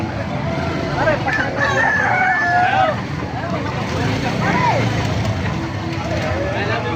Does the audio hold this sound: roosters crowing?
yes